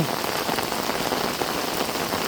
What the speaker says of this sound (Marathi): गेली दहा बारा दिवसाच्या विश्रांतीनंतर पुनश्च पावसाने आगमन केले आहे